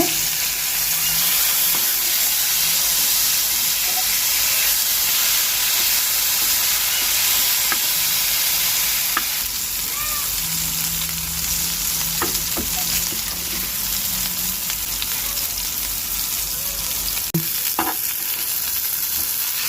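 Vanjiram fish fillets coated in masala fry in a pan with a steady, loud sizzle and hiss throughout, broken by a few clicks and scrapes as the pieces are turned over; no one speaks.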